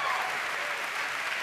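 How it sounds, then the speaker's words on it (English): A crowd applauds steadily at a BlizzCon 2011 Q&A panel, a dense wash of clapping that stays even and full throughout. "Everybody give them a round of applause."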